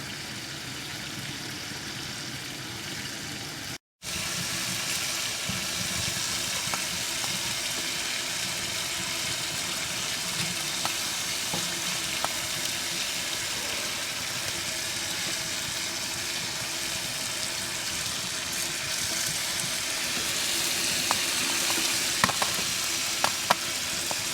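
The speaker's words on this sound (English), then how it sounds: "Spuds are boiling away nicely." A steady, dense bubbling and sizzling rumble of potatoes boiling in a pot on a wood stove outdoors, continuous and fairly close, with no voices.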